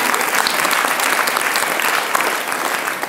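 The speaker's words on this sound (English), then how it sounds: "Round of applause." A lecture audience gives a dense, steady round of applause, loud and close, holding evenly for a few seconds with no one speaking over it.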